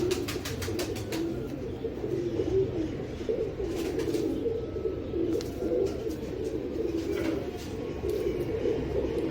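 Tiger breed pigeons coo close by in repeated soft throaty calls, with a few sharp clicks and flutters over a steady low background.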